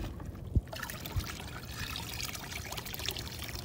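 Razor clams rinsed in water by hand to wash off sand on a seashore, with close splashing and pouring, two brief knocks early on, and a continuous trickling wash of water.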